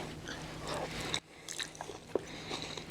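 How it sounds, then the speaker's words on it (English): Peanut butter ramen topped with crunchy nuts, bell peppers and spring onions is chewed close to the mic, giving soft faint crunches and bites over a steady room hum, with no speech. "The crunch of the nuts and those bell peppers and the green onions or the capsicum and the spring onions is fantastic."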